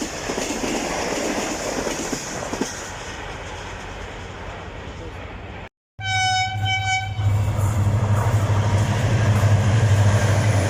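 Karakoram Express, the Lahore Junction to Karachi Cantt train, passing Dhabeji railway station near Karachi: loud continuous rumble and rattle of wagons, broken by a brief dropout, then a long horn blast over the steady roar of the passing cars.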